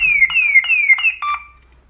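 Anti-theft security display alarm in a mobile phone store sounding a loud, close electronic siren: repeated falling shrill tones with sharp beeps, then a short steady tone before it cuts out and fades to quiet.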